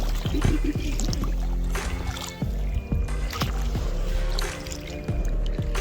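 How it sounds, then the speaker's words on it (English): Kayak paddle strokes splash and churn through shallow rapids at Hot Creek Spring in Nevada, a steady rhythm of watery slaps and trickling close to the mic, with a low constant rush of moving water beneath. "kayak our way up these rapids of the Hot Creek Spring."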